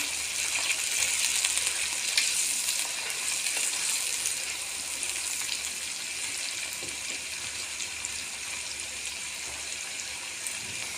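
Onion leaves, garlic leaves and green fenugreek being mixed in a cooking pot, a faint, steady sizzling and watery hiss with soft stirring scrapes throughout.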